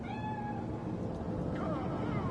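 A cat in a video game set in Night City gives a drawn-out, falling meow, then a second, shorter meow, over a steady background hum.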